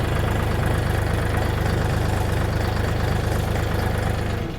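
Steady, loud diesel chug of a DTZ 5244HPX mini tractor straining uphill on rough sloping ground with rear-wheel drive only, its rear wheels slipping while it keeps creeping forward, a continuous close engine drone throughout.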